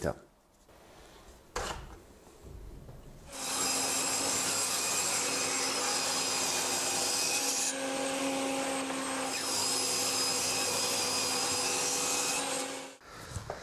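A power saw cuts wood steadily for about ten seconds with a continuous high whine, preceded by brief handling knocks and quiet pauses.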